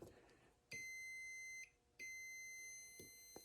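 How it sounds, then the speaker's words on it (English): A multimeter on its ohms setting gives two steady, fairly loud continuity beeps as its probes touch through a jumper on a Corvette cooling fan plug, the first lasting about a second, the second longer, with a short gap between them. "you get a beep"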